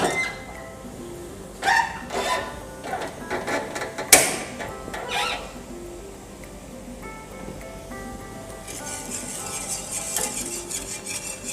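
Natural dye mixture is stirred in a pot over heat, with irregular metallic scrapes and clinks of a utensil against the pot, one sharp clank midway, and a bubbling, sizzling wash behind it, no talk.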